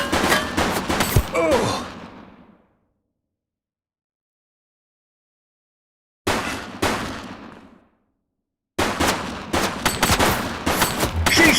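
Bursts of rapid gunfire in The Precinct video game, loud and close, coming in three volleys separated by silence, with a brief shouted exclamation at the start.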